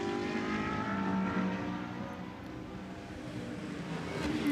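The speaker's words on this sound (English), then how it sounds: "his 458 GT3 Ferrari, run by BMS Scuderia Italia" A Ferrari 458 GT3 race car in Blancpain GT Sports Club qualifying at Barcelona drives past with a sustained engine drone. Its pitch shifts slightly and it stays fairly loud throughout, heard from trackside with no speech.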